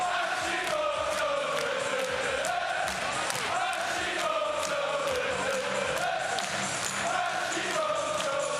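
A darts crowd chants player Hashimoto's name, a loud, continuous, rhythmic mass of voices filling the arena for the whole stretch.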